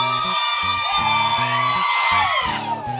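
A live concert crowd screams, whoops and cheers loudly together in a sustained roar of many voices, with rising yells layered over low pulsing music.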